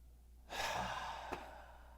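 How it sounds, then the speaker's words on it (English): A single deep, audible breath is heard close up, rising suddenly and then fading slowly over about a second against a low background hum. "take a nice deep breath"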